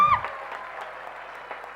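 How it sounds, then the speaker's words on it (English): An audience at a school annual day show applauds steadily, the crowd clapping blended into a continuous, moderately loud wash that stays level throughout. "Can you all clap a little louder?"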